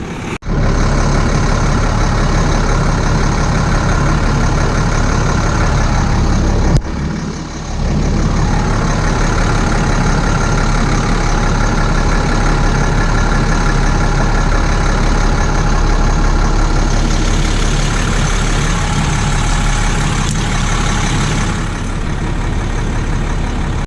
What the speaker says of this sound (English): Turn the bus on and let it run for 5 to 10 minutes for the fluid to warm up.